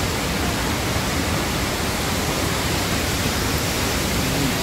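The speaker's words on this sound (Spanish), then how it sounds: "la cascada." Waterfall at La Fuentona in Spain, a continuous, loud and steady roar of rushing water that fills the whole clip without a break.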